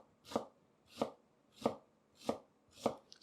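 Five evenly spaced, crisp knife strokes slicing fennel thinly into julienne on a cutting board, each a short sharp chop about half a second apart, close and clear with no talk.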